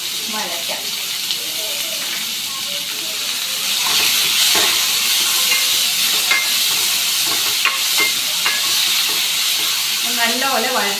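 Two onions and two green chillies sauté in a pan with a continuous sizzle that grows louder partway through, broken by repeated stirring clinks and scrapes.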